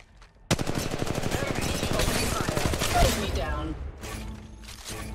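Rapid machine-gun bursts in Apex Legends start abruptly after a quiet moment, loud and closely spaced shots rattling on for several seconds, then thinning into sporadic distant fire.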